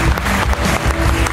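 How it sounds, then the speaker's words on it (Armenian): Studio audience applause on a health-themed talk show, a steady dense wash of clapping that holds loud for just over a second with no break. "Ծափարում ենք"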